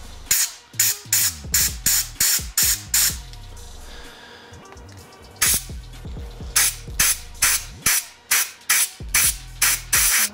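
Short blasts of compressed air blown through the jet passages of a 2008 Honda CRF450R dirtbike carburetor, a dozen or so sharp hissing bursts in a rough rhythm, loud and close, with a brief pause midway.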